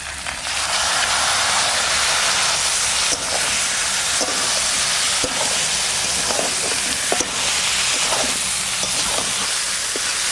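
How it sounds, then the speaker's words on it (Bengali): Loud, steady sizzle and hiss as water hits spice paste frying in hot oil for a green jackfruit curry, with faint clinks of stirring throughout and no talk. "এবার জল দিয়ে দিচ্ছি"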